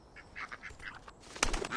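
A duck in the video game Bear Simulator gives a series of short, scratchy quacks in quick bursts, then a louder cluster near the end, close and alone with no talk.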